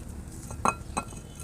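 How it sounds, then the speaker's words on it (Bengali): A frying pan set down on a kitchen stove while making jalebi makes two faint metallic clinks close by in a quiet room. "আমি শিরাটা নামানোর পরে এখন ফ্রাই প্যান বসিয়ে দিচ্ছি।"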